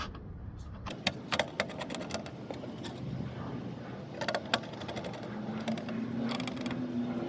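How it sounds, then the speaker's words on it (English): Screwing a license plate into place on a car while installing an Auto Vox TW1 backup camera: scattered metallic clicks, ratcheting and light clinks over a steady low hum, with a faint rising whine near the end. "And then we can go ahead and screw the plate into place."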